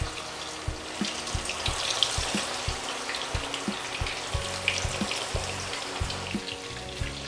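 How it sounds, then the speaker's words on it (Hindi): Chicken frying in medium-hot oil crackles and sizzles steadily at moderate volume, with light popping ticks scattered through a continuous hiss and no voices. "और इसमें अब हम डाल देते हैं चिकन। और चिकन को हम 2 बार में फ्राई करेंगे।"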